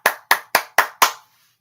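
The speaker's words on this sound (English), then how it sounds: "Now they clap for them." Five sharp hand claps in an even, quick rhythm, close and crisp, then silence.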